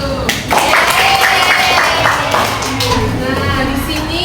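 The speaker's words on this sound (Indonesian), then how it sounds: "Tepuk tangan dulu." Students in a classroom clap together in a dense, steady burst of applause that starts abruptly and holds for several seconds, fairly loud and close, with a teacher's voice faintly underneath.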